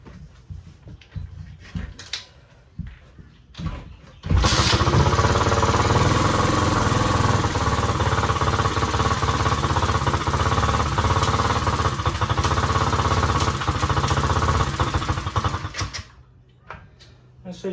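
A rusty old dirt bike engine starts and runs steadily at a loud, buzzy idle for about twelve seconds while gears are shifted through, with quieter mechanical clatter before and after.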